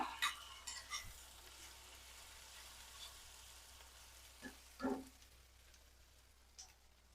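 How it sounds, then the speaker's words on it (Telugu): A tempering of curry leaves and turmeric frying in a pan gives off a soft, faint sizzle, broken by a few light stirring clinks and scrapes. "ఈ తాలింపుని దోరగా వేగనిద్దాం"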